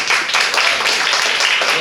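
Congregation at a Christmas-season church service clapping together in praise, a dense, steady wash of many hands close by, continuous for the whole moment with faint voices mixed in.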